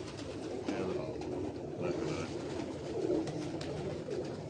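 Pigeons coo together on a rooftop loft in Wazirabad, a steady low burbling blanket of sound with faint background voices mixed underneath.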